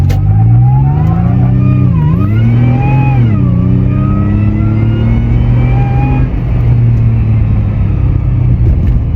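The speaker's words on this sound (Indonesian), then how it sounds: "Dengar nggak suara mesinnya ngeraung," A loud supercharged Toyota FJ Cruiser SUV engine revs up and down, its pitch rising and dipping a few times before settling into a strong, steady high-revving whine.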